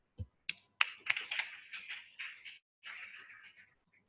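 A board of trustees meeting breaks into brief, quiet applause from a small group after a resolution passes unanimously: sharp scattered claps build into two short bursts separated by a pause, fairly distant.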